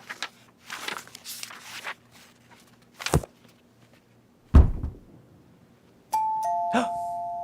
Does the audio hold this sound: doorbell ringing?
yes